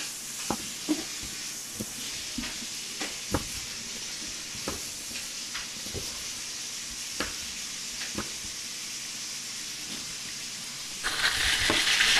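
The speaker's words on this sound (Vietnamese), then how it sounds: "cánh gà mình xào cũng săn rồi" Chicken wings stir-fry in a hot pan with chopped culantro and chili, giving a steady sizzle with intermittent scraping and clacking of the utensil, ending with a louder burst of hissing.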